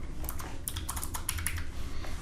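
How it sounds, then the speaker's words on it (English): Rapid, light typing on a laptop computer keyboard, a quick run of clicking keystrokes heard alone at a steady moderate level. "My typing is horrible today."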